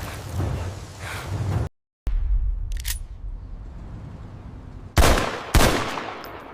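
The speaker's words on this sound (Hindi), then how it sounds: "अचानक एक गोली चलती है।" A sharp, loud gunshot cracks out, followed moments later by a second burst, with muffled rumbling and shuffling noise before it.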